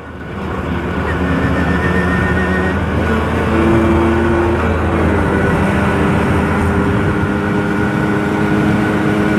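A Suzuki RC 100 motorcycle engine held at full throttle during a night ride roars loud and close, a steady high droning whine that climbs slightly and stays constant throughout.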